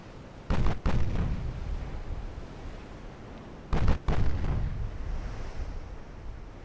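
Secondary guns on warships in Ultimate Admiral Dreadnoughts, armored cruisers firing in naval battle: two loud bursts of booming cannon fire over a steady ocean and wind rumble.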